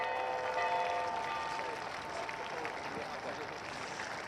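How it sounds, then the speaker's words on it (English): An audience applauds the players at a polo cup final, a steady wash of clapping that lasts throughout, with a voice speaking over it at the start. "Give them a round of applause."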